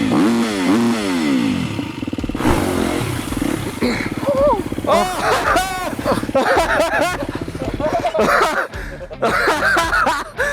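A compact dirt bike engine arrives at an extreme enduro, revving loudly in repeated rising and falling bursts up close, with people talking and shouting over it.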